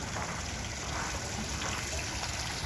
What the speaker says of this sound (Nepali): पानीको फोरो